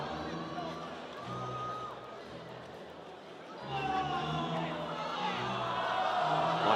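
Home crowd at a professional basketball game in Taoyuan, a broad arena roar that swells louder in the second half, with a commentator talking over it.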